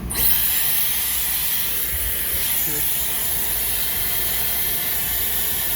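A hair dryer blows with a loud, steady whooshing roar that starts abruptly and continues unchanged, close to the listener.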